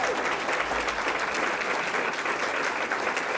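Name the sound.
audience applause for lunch staff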